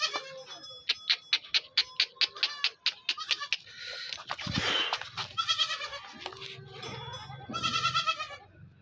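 Goats at a home-bred livestock sale in Karachi bleat repeatedly and close by, a run of rhythmic calls followed by longer overlapping bleats from several animals.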